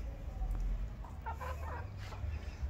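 Soft clucking from Mapuche chicks and a rooster over a low rumbling background, with a few brief higher chirps scattered through.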